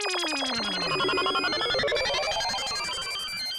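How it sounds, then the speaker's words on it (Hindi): A mobile phone ringtone rings loudly and continuously, a dense, repeating electronic melody with a sweeping tone that fills the room with no talking over it. "ये किसका मोबाइल बजा?"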